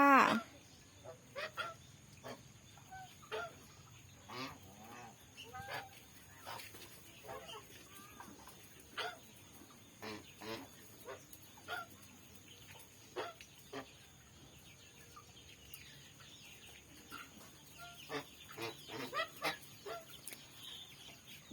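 Geese honking in repeated short bursts, scattered across the whole stretch with brief gaps, fairly close and moderately loud over a steady background hum.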